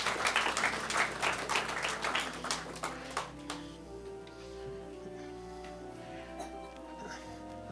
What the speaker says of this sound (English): A round of applause as Dennis joins me on stage